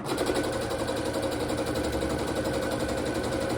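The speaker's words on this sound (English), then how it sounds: "we're going to put the squares together and then sew down 1/4 on each side" A sewing machine runs quickly, stitching quilt squares together with a quarter-inch seam, producing a dense, continuous near whirring hum with a rapid mechanical rhythm and no speech.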